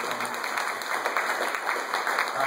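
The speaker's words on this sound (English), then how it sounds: "So could you give him a round of applause for this?" An audience at a community meeting gives steady, dense applause of many hands clapping together at an even level throughout, with no voices over it.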